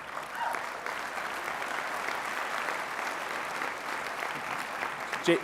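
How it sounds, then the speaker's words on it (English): An audience at the Oxford House World Convention opening general session applauds, a dense steady wash of many hands clapping that holds for several seconds at moderate volume. "let's give that a round of applause"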